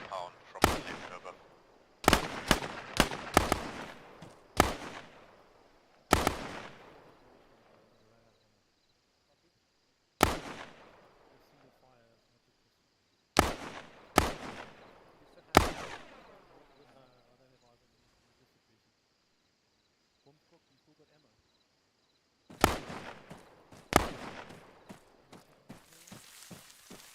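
Gunfire in the Arma 3 military game during a squad training session, with sharp shots in quick clusters and bursts separated by long quiet gaps, some rapid volleys near the start and end.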